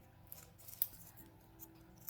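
Scissors trimming loose threads on a handmade card, several quiet, close snips with small clicks spread across a calm, faint background, no talking.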